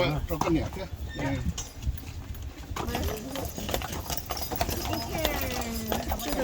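Horses pulling a carriage on Mackinac Island, their hooves clip-clopping steadily up a hill outdoors while people talk loudly over them and a neigh-like call rises near the end.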